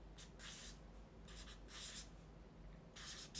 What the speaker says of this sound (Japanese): ちょっとその日曜日の予定書くね。